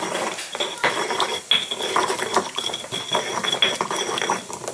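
Spoon stirring shrimp paste chili dip in a bowl after warm water is added, repeated close scraping and clinking strokes in an uneven rhythm, with no talking.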